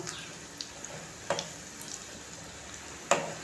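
Egg 65 pieces fry in hot oil as they are turned over, with a soft continuous sizzle and a few sharp clinks and scrapes from the utensil, close and moderately quiet.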